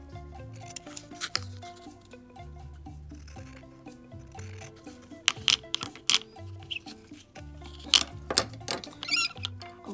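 Small scissors snip and trim a miniature fabric blanket for a dollhouse bed, giving quiet scattered cuts and brushing rustles up close, with no talk.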